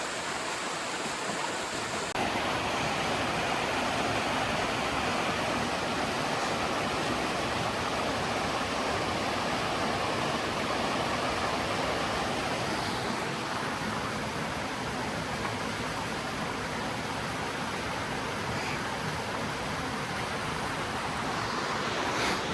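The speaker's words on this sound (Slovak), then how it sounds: "Som si tu našiel takýto spotík pri týchto vodopádoch." Waterfalls in the Janošíkove diery gorge in the Malá Fatra mountains of Slovakia pour in a constant, dense broadband rush, loud and unbroken with no voices.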